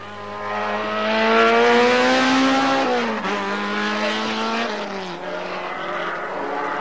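Toyota touring race car at a 1988 hill-climb meeting in Záskalí, its engine roaring loudly at speed with rising and falling pitch as it passes and shifts, alone throughout.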